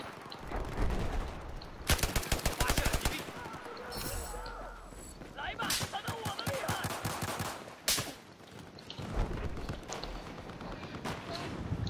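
Sniper gunfire in a video game: bursts of loud, sharp cracks and rapid shot clusters come in waves over game ambience, with a voice talking at times between them.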